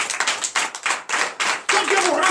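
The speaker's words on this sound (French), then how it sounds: "Donnez l'acclamation à Jésus." A congregation at a morning prayer service in Benin claps in uneven bursts, loud and close, with voices mixed in among the clapping.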